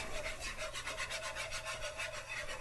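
A flour roux is whisked in a pan with a quick, steady back-and-forth scraping rhythm, close and quiet, with no voices.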